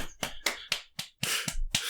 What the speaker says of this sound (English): We all clap in time as they attack you.